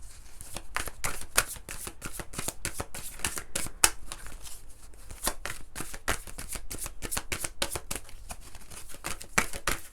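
Tarot cards riffle and slap in quick, continuous shuffling close to the microphone, a steady run of crisp bursts over about ten seconds.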